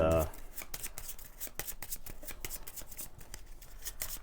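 Trading game cards from a Buffy the Vampire Slayer deck are shuffled close by, a steady run of crisp riffling flicks lasting several seconds with a voice briefly at the start.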